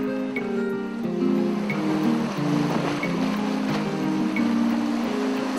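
Waves washing steadily onto a sandy shore, a continuous near surf wash with no pauses and no voices.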